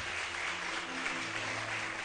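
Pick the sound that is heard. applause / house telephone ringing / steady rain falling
applause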